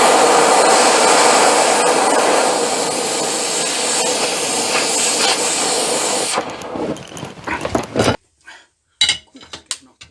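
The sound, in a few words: Oxy Turbo torch hissing while heating steel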